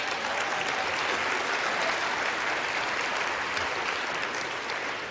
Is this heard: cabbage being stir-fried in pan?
no